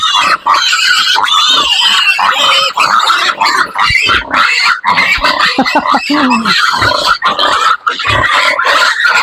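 A red mother sow grunts loudly and almost continuously at close range, deep and rough, with a few short pauses and some faint talk underneath.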